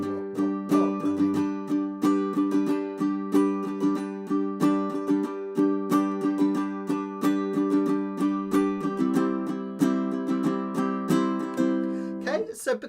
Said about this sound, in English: because we're strumming that quite fast, 2 of those for every measure